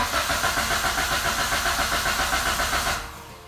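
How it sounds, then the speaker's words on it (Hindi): A 2021/22 Suzuki Alto VXR 660cc car engine cranks in a repeated start attempt, a steady rhythmic churning for about three seconds that fades off without catching, close and fairly loud. "चलें अब हम गाड़ी स्टार्ट करके चेक करते हैं।"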